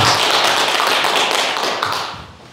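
A lecture audience at a special talk in Gwangju breaks into loud, dense applause that holds steady and then tapers off toward the end, with no talking over it.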